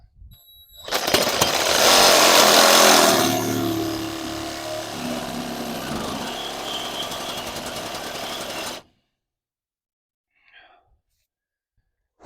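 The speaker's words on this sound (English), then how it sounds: "Try not to cut all the way through the whole bushing, just that sleeve, if I can help it." A power tool grinds loudly through the metal sleeve of a front suspension bushing on a 2001 Toyota Tacoma, a harsh rising burst settling into steady cutting for several seconds before stopping abruptly into near silence.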